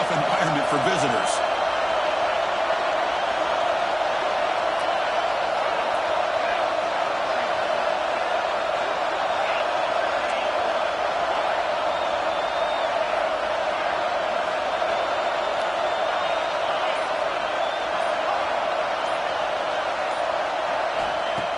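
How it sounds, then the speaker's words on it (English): A stadium crowd in EA Sports College Football 26 (Auburn Tigers vs Alabama) roars in a steady, dense wash of cheering throughout, with commentary voices talking over it. "Listen to the crowd energy here in the early going."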